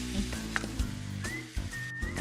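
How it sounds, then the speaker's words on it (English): Ground beef seasoned with kosher salt sizzles steadily in a hot pan while a spoon breaks it up, giving a continuous frying crackle with occasional soft scraping and clicks of stirring. "I'll season this with a teaspoon of kosher salt and then break it up with my spoon as it browns."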